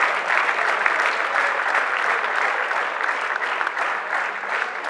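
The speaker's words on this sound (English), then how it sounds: "A big applause for him." Sustained audience applause at a closing ceremony, a dense steady clatter of many hands clapping at even loudness for the whole stretch, with no voices standing out.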